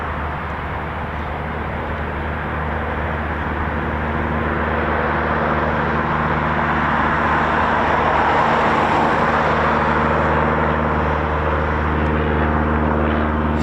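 An aircraft passes low over an RAF air display, a steady, loud engine roar swelling gradually toward a peak and holding there without any talk.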